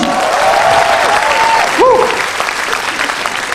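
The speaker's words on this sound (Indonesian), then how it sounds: "tepuk tangan untuk kalian" Audience at an Indonesian stand-up comedy show applauds loudly and steadily, a dense wash of clapping with cheers and whistles rising mid-way before easing off.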